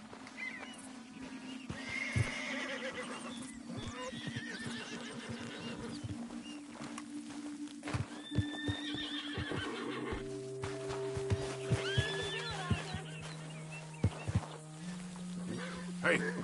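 A horse in Red Dead Redemption 2 whinnies loudly several times, with the clip-clop of its hooves and footsteps nearby. Someone talks in between, and sustained musical tones play in the background.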